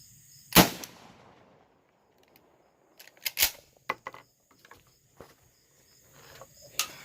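A 12-gauge shotgun fires a single Remington 2 3/4-inch 00 buckshot shell outdoors, giving one sharp, loud blast that quickly fades. A few fainter clicks and handling noises follow.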